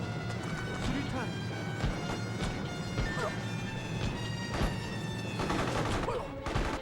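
Gunfire from a sniper rifle in Mercenaries: Playground of Destruction on the original Xbox: several sharp, fairly spaced shots cracking over a dense, constant wash of in-game ambience and distant battle noise.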